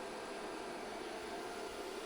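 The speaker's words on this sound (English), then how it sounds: "Turn the vacuum on." A shop vacuum runs with a constant, steady whine and rush of air, drawing a plastic sheet down onto a router table for cutting a jig, with no talking over it.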